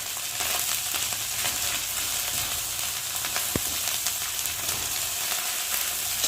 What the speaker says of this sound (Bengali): একটু ভালো করে ভাজা ভাজা করে নেব